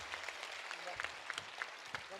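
Audience applause at a Holi kavi sammelan poetry gathering in Kolkata, a steady wash of hand clapping that stays fairly quiet and even, with a few sharper claps and faint voices mixed in.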